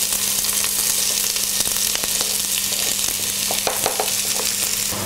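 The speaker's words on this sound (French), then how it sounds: "Alors là l'huile est chaude, du coup je mets mes petits oignons." Small onions frying in hot oil in a saucepan, a loud continuous sizzle with scattered pops and clicks of stirring, close and without speech.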